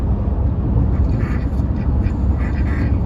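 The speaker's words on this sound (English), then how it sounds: "These ducks are enjoying some rare shade in the concrete sprawl of Hermosillo." Ducks quack in a steady, busy chatter against a constant rushing background noise, in the shade of a concrete urban sprawl in Hermosillo.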